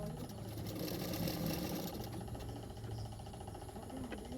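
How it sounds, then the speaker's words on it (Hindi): A sewing machine stitches along the fabric edge of a katori blouse, its needle running in a fast, even, continuous whir, faint and steady throughout. "फैब्रिक के किनारे पे मैंने सिलाई कर रही हूँ।"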